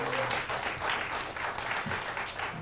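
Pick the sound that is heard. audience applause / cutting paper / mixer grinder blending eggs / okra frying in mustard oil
audience applause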